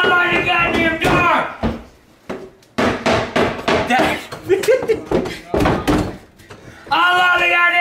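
A fist pounds repeatedly on a locked door in a house, loud, irregular thuds mixed in with angry shouting from a man nearby.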